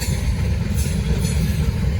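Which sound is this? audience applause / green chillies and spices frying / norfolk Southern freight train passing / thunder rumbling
norfolk Southern freight train passing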